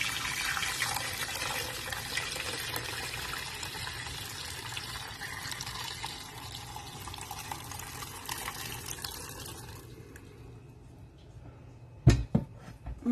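Chicken and turkey bone broth poured through a sieve in a kitchen, a steady rushing, splashing stream for about ten seconds that fades, followed by a couple of sharp clinks of metal or pot.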